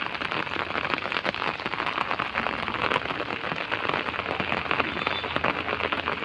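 Heavy rain pours steadily on a village morning, drumming densely on a hard surface nearby, with no voices heard.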